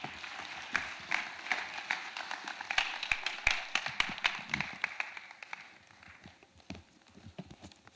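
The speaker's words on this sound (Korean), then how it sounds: "나오실 때 우리 큰 박수로 맞이해 주시기 바랍니다" A church congregation gives warm applause as the pastor comes forward, a moderate crowd of clapping hands building to a peak midway and thinning into scattered claps by the end.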